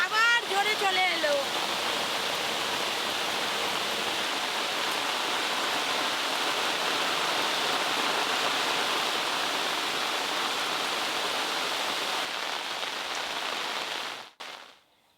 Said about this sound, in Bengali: বৃষ্টিটা দেখেছেন, আবার জোরে চলে এলো।